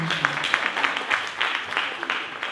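An audience at a speaking event applauds with soft, steady clapping that stays faint and dense throughout, with a voice talking over it.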